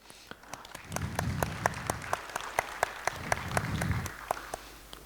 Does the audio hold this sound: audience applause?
yes